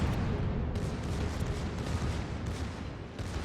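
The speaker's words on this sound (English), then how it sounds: "My secondaries are trying to get a few shells towards it." Secondary guns of the German battleship Schlieffen firing shells in World of Warships, a dense continuous rumble of distant overlapping booms with no distinct single shots, no talking.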